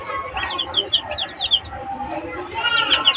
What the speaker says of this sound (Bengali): এদিকে মুরগি হচ্ছে ওই যে ওকে ঠুকরাচ্ছে, এদিকে ঠুকরাচ্ছে দেখছেন।